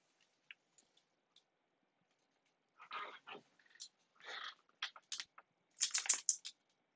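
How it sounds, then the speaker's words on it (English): Computer keyboard typing during an online math class, heard as faint scattered clicks that gather into quick clustered bursts across the second half, with no one talking. "so Willie's typing something"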